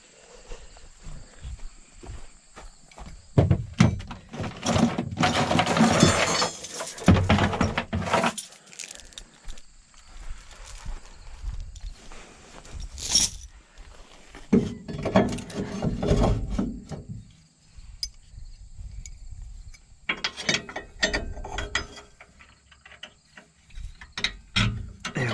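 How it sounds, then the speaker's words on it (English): A chain with hooks rattles and clinks in irregular bursts while a post and beam garage kit is unloaded, with clanking metal, knocks on wood and pauses of near quiet between handling. "It always comes in handy having a chain with some hooks like this."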